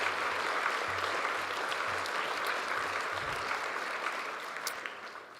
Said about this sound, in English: that in and of itself is worth of a round of applause